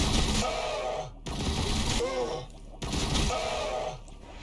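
Units in the Warhammer Battlesector video game fire in two loud bursts of rapid, overlapping gunfire, each cut off abruptly before the next begins, with a brief quieter gap between them.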